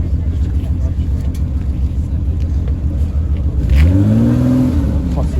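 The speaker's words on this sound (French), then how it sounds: "Oh, je voulais pas rater le démarrage de l'Alpina." Alpina car starting up, heard close: a steady engine rumble, then a rising rev toward the end of the clip, with people talking nearby.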